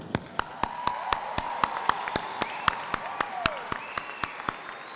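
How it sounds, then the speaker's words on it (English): Steady, evenly spaced claps ring out in a quick regular rhythm at a college commencement ceremony, with a soft murmur of room noise underneath. "Let's give the parents and the educators hand applause."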